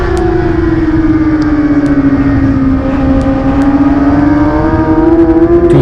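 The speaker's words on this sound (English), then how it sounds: "this Kawasaki machine has so much power down the straight line" A Kawasaki 600 racing motorcycle screams at full power down a straight at Calabogie during a CSBK race, one loud close engine note holding high and then climbing steadily as it accelerates.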